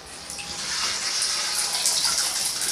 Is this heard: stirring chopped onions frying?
no